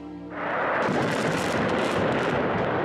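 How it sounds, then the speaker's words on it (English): Airstrike explosions in Syria: a heavy, sustained rumbling blast that swells within the first half second and roars on, loud and distant-sounding, with no voices. "Syrian regime and Russian airstrikes are still taking place"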